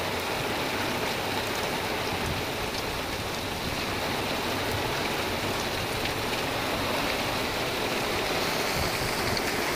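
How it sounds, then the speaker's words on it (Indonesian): Heavy rain pours down at night in a dense, constant hiss with a low rumble beneath it, steady and unbroken throughout with no voices. "Hujannya deras kawan."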